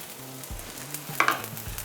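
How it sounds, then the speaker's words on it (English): Spring onions sizzle in hot oil in a pan, a steady close frying hiss with a spoon stirring and scraping through them, one brighter crackle rising midway. "Get some oil in there and then go in with your springies."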